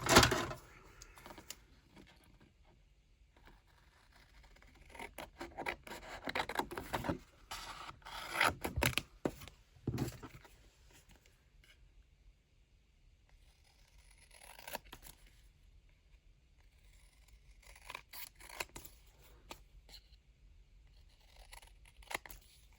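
Scissors cut out a vinyl sticker, giving soft close snips and rubbing, scraping sounds in irregular clusters with quiet stretches between them.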